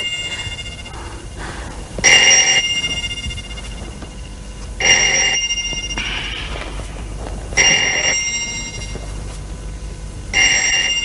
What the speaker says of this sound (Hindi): प्लीज जाके फोन सुनो, मुझे उलझन हो रही